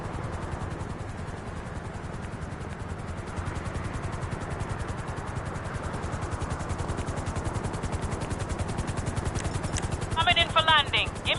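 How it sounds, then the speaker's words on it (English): Helicopter arriving in a PS4 video game, a steady rotor thrum and hiss that holds through the whole stretch and grows a little louder near the end, alongside brief game sound effects. "Your helicopter will be with you directly."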